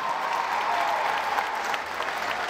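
Sustained crowd applause fills a welcome at an official municipal event in General Zuazua, Nuevo León, forming a dense, steady wash of many clapping hands with no gaps, close and fairly loud throughout.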